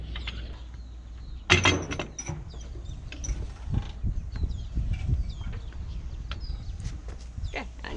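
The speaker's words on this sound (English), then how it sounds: "It's a pulley system." A rope pulley system for a boat dagger-board creaks and ratchets as it works, with a louder clatter near the start and scattered squeaks and clicks after it, close by and mostly alone.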